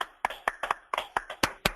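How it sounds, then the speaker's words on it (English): A virtual round of applause at the end of an online seminar over a video call: about eight distinct, close handclaps in a loose, uneven rhythm, fairly faint, with no talking. "we give the speaker a virtual round of applause"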